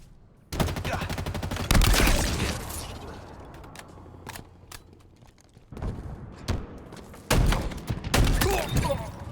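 Video-game gunfire in bursts of rapid shots, loud and close, with a long rattling volley, a quieter stretch of scattered single shots and mechanical clunks, then heavy fire again; a voice talks in between.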